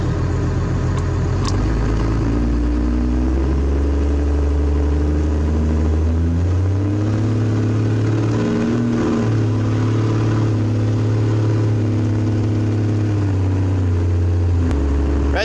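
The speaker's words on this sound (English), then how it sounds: "I'm gonna do a brake stand and I'm gonna see how much I can get it to boost up." A car held in a brake stand to build turbo boost, its engine droning loud and steady, then climbing in revs before settling back, heard up close.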